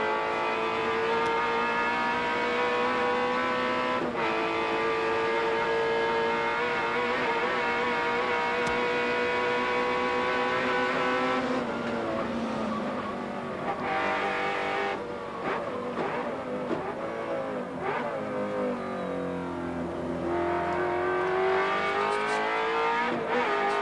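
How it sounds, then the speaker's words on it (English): A V8 race car engine roars at the 1991 Bathurst race, loud and sustained, with strong harmonic revs that rise and fall as the car accelerates and shifts, and brief tyre noise near the end. "Just listen to that awesome V8."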